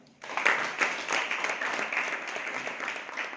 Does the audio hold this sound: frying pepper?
no